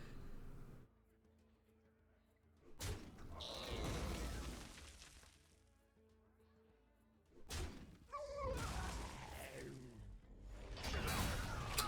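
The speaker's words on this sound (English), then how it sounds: "So that's a corpse explosion as well from the opponent" Hearthstone card game corpse explosion effects burst in two sharp, loud whooshing blasts with crackling debris trailing off, separated by quieter game ambience; no one speaks.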